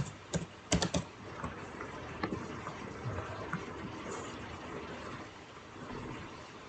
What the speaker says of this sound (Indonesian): saya akan mengetik